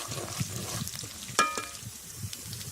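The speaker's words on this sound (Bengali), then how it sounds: "এই যে আমরা এখন পেঁয়াজগুলোকে দিয়ে দিচ্ছি, তেজপাতা, পেঁয়াজ সবগুলোকে দিয়ে দিচ্ছি।" Onions and bay leaves fry in oil while being stirred, a soft sizzle with faint scraping and one sharper clatter, quiet and close with no talk.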